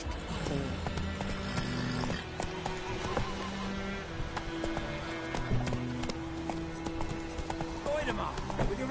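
Roach, a horse in The Witcher 3, gallops with steady clip-clop hoofbeats under game music, with a voice calling out over the running.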